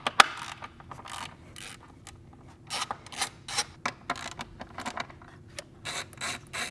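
Ratchet wrench loosening E10 Torx bolts on a manifold bracket of a BMW B58 engine, giving repeated bursts of quick clicking over several seconds, close up and moderately loud with short pauses between strokes.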